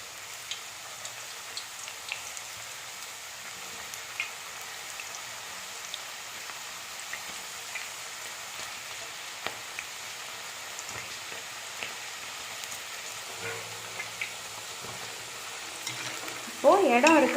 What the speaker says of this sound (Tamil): ஆயில் நல்லா ஹீட்டாக இருக்குது. இப்போது சீவி வச்சுருக்க மரவள்ளி கிழங்கை ஆட் பண்ணலாம்.